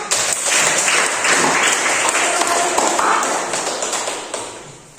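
A room full of people claps steadily for several seconds, dense and continuous, then tapers off toward the end.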